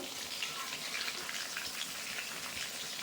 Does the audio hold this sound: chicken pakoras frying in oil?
yes